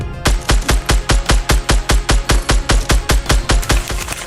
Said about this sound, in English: the Scar now hits for 72 in the head and sounds like this